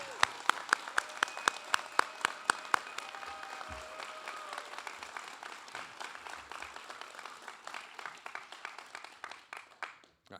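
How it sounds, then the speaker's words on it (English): Audience applause at a Navy BM A School graduation ceremony, starting with sharp, distinct close claps that swell into a steady, moderately loud round of clapping from the crowd. "Please join me in giving a round of applause to Matthew Whitwell, Damian Quintillo Perez,"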